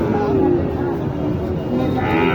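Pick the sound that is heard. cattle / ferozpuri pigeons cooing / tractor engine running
cattle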